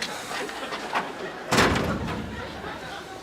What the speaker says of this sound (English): You want to shut it from the other side, Don?